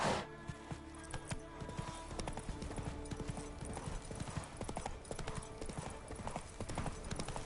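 Horse hooves clip-clop steadily on the ground in The Witcher video game, a continuous close, even rhythm of hoofbeats running the whole time with a faint whinny and some game background sound.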